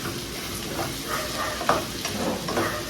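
Vegetables sautéing in a pan make a steady sizzle near the mic, with soft irregular stirring scrapes and occasional brief clinks and no speech.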